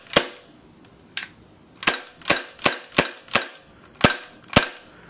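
Sharp, snappy shots from an airsoft CO2 blowback pistol (Tactical Force Combat), fired one at a time: about nine loud cracks in an irregular rhythm, some in quick pairs, each with a short mechanical slide clack, no talking.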